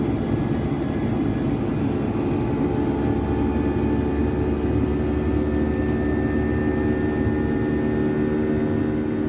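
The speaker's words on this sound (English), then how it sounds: "Sound's gone horrible, well, it's just the engine" Steady, loud engine drone heard from inside a truck cab, a dense continuous roar with a low hum that holds evenly throughout, with no talk over it.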